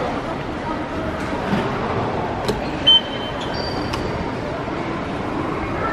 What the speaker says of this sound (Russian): Сели в метро, и Лера сидит на месте для беременных.